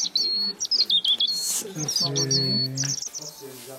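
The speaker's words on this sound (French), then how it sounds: "Les mésanges, le rouge-gorge, les pinsons." Garden songbirds around houses, such as tits, robins and finches, chirp and trill continuously in dense overlapping bright calls, close and loud.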